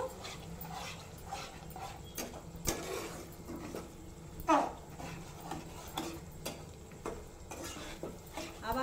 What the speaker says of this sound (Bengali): আমি ভালো করে কষিয়ে নিচ্ছি